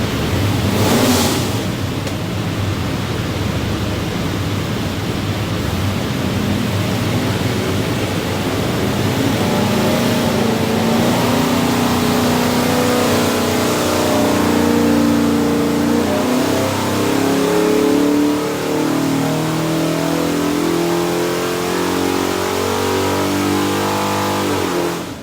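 A 408 Windsor Ford small block V8 with a custom hydraulic roller cam revs hard on a dyno, a loud, close roar that climbs steadily through a long sustained pull.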